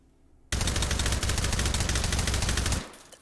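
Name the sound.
AR-18 rifle firing with suppressor, no stock, in H3VR video game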